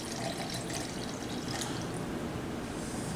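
Fresh lime juice pours steadily into a measuring container while fajitas are prepared, a continuous close liquid splashing and trickling with no talking over it.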